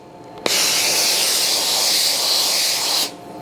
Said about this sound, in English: I'm going to lift this off the board and I'm going to steam where the